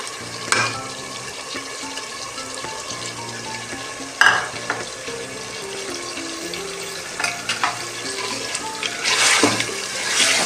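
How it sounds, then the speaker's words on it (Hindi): Tomatoes dropped into a pan of chicken and spinach curry, frying with a steady low sizzle, a few sharp clatters of stirring and scraping against the pan, nearby, with no talking. "टमाटर साथ भी हम 2 मिनट की भुनाई करेंगे"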